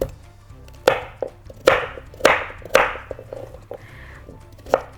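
A knife chops peeled carrots on a board for carrot hummus: about seven sharp, close thunks at an uneven pace with short pauses between them, and no talking.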